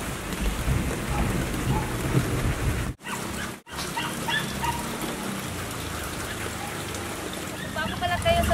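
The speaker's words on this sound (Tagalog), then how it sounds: "Lakas ng ulan." Heavy rain pours steadily over a garden on a gloomy day, a dense close hiss with brief dropouts, while a person talks over it.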